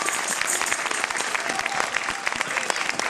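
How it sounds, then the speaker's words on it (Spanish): Dense, loud applause from a crowd in the Plaza del Pilar in Zaragoza at a Christmas jota performance, clapping for a folk rondalla, sustained and close with no break. "yo pediría un aplauso muy fuerte para esta querida rondalla de Raíces de Aragón"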